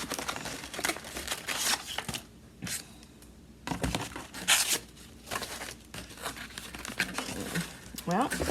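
Large sheets of construction paper from a junk journal kit are crinkled and shuffled by hand, rustling in bursts of varying loudness close by, with a person talking over much of the handling.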